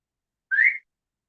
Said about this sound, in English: It's so cool that I can whistle with my fingers.